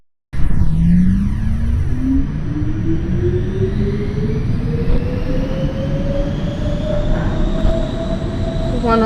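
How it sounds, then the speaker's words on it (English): An NYC Subway R68 B train in the OpenBVE train simulator game accelerates with a rising motor whine over a loud, steady rolling rumble, alone and close throughout. "This is a Brooklyn-bound B train making express stops."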